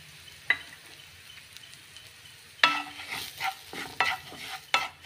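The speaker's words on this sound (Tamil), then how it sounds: "இந்த எண்ணெயிலையும் அந்த மசாலையும் நம்ம ரவையை வறுத்து எடுத்துக்கலாம்." Semolina roasting in oil with masala, stirred in a pan: a quiet low sizzle, then several sharp, close scraping strokes in irregular bursts toward the end.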